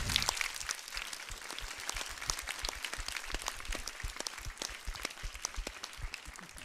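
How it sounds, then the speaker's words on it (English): A crowd applauds children introduced as future explorers and astronauts at a space station crew event, steady dense clapping throughout at moderate distance, with no talking over it. "Give them a big round of applause"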